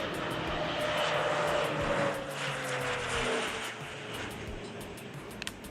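Crop-dusting airplane flying over farmland, a steady propeller engine drone that swells and passes, fairly loud and continuous with a slowly shifting pitch, alone with no voices.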